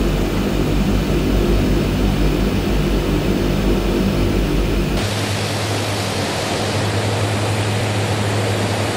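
A de Havilland Twin Otter's turboprop engine in Microsoft Flight Simulator 2020 runs with a loud, steady roar and a droning hum, shifting abruptly halfway through as the engine note changes, with no talking.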